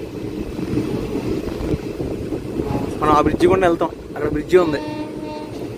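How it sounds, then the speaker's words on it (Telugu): A passenger train on the Rajahmundry to Araku line, near the double-line section, rumbles steadily along a curving track with wheel and rail noise and a few squealing tones, while someone talks over it. "మన ట్రైన్ ఇప్పుడు ఇలా టర్నింగ్ కొట్టుకుంటూ అటే వెళ్తుంది."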